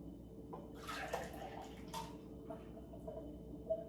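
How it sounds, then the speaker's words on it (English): Vegetable juice sweetened with apple is poured from a glass back into a container to mix it, a close, steady liquid splash lasting a few seconds with brief surges and trickles, no talking. "I will pour it back in just to mix it"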